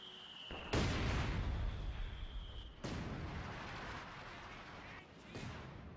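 Indirect artillery shells landing on an urban map in Company of Heroes 2: three heavy, booming impacts spaced a few seconds apart, each followed by a rumbling decay over continuous battle noise.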